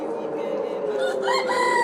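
A rooster crows at a large religious gathering at a Bangladeshi shrine, one drawn-out cock-a-doodle-doo rising near the end over a steady crowd murmur, fairly close.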